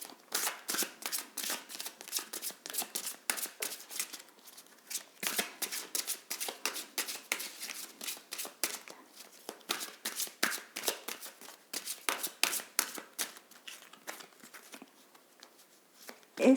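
Oracle cards are shuffled by hand in quick, close riffling bursts with brief pauses, a crisp papery flutter repeating steadily and heard alone.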